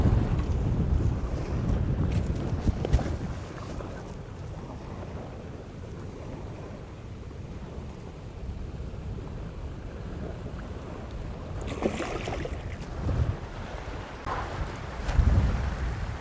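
Strong gusting wind buffets the microphone outdoors at a Canadian carp fishing spot, a loud continuous roar with waves lapping underneath and no voices.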